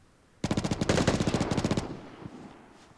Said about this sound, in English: We hear one person, but yet we hear another person firing.